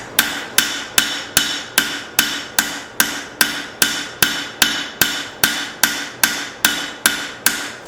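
A blacksmith hammers steel while forging a chopper, striking about twice per second in an even rhythm, each sharp, ringing blow clear and close with no talking.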